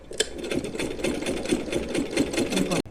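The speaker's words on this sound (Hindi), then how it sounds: "अब यहाँ पर हम एक सिलाई लगा देते हैं" A sewing machine stitches a small Laddu Gopal doll dress in a fast, even run of close, rhythmic needle clatter that stops abruptly at the end.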